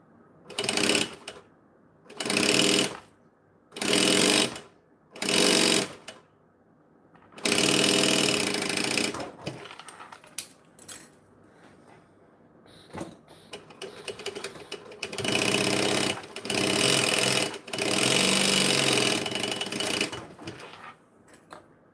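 A sewing machine runs in bursts, starting and stopping in several short stitching runs and then longer sustained runs, close and fairly loud, with no talking.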